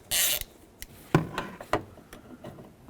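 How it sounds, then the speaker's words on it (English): A T40 Torx bit backs a thread-locked door check bolt out of the A-pillar of a 2001-2007 Volvo V70, giving a quick scrape followed by a few sharp metallic clicks and ratchet-like ticks, quiet and close. "Remove the bolt that goes into the A-pillar."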